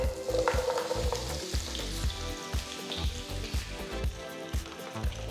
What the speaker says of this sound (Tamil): நறுக்குன கிழங்கு பேன்ல போட்டு ஃப்ரை பண்ணுங்க.